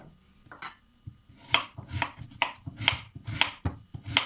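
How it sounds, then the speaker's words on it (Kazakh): A knife chops through potatoes on a cutting board, about eight distinct thuds at an uneven, unhurried pace, close up. "картопымызды турап аламыз."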